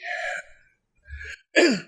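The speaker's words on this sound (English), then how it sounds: "So sorry, I'm clearing my throat a lot." A person clears their throat a few times in quick bursts, rough and close, with short pauses between and a final louder, harsher hack.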